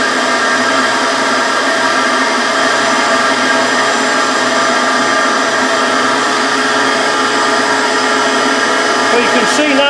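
A vacuum pump runs steadily, drawing air out of a vacuum bag over a Land Rover Defender dash top being recovered in new vinyl, with a constant loud whirring hum throughout and no pauses.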